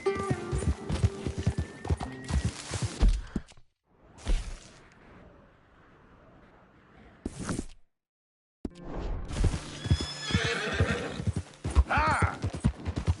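A horse in a PS4 video game gallops with rapid clip-clop hoofbeats and neighs, the hooves loud and close in bursts broken by a quieter stretch and a short silence, with game effects layered around.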